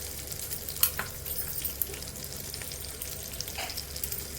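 Poha chudwa sizzles gently in hot oil in a pan at home, with a steady soft crackle and a few light clinks of stirring.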